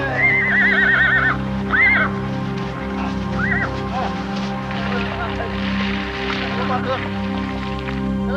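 Pack horses on a snowy mountain trek in Afghanistan whinny loudly and repeatedly close by, several neighs in the first seconds, then quieter calls over a steady background hum.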